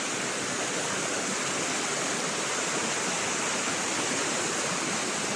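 Tuenwan Falls pours in a steady, loud broadband roar of falling water, constant and close with no voices over it.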